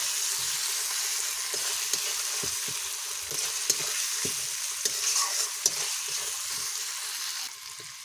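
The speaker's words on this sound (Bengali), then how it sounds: "এখন মশলাগুলো ভালো করে কষে নেব।" Ginger paste and ground cumin-chili paste fry with onion in a pan, giving a constant hiss of sizzling oil with scattered soft scrapes and taps from stirring.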